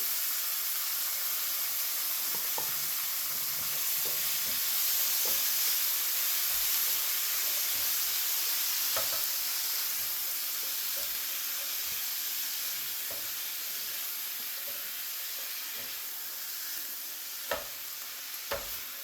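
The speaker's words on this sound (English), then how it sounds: "remove the oil from the frying pan. I'm gonna add the veggies" Steady sizzling and hissing from vegetables frying in a hot pan for Jamaican escovitch fish, with occasional clinks and stirring scrapes, close and continuous, no talking.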